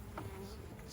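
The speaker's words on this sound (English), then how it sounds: "There are quite a few bees over here though. Quite a few bees, even on the outside." Honeybees buzzing around an open hive during an inspection, a soft, close humming drone with a few individual bees flitting past, faint and steady over a low background.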